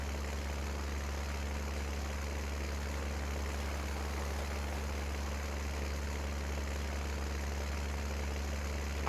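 A small tractor engine in Farming Simulator 19 runs at a steady, low drone, quiet and constant throughout with no talk.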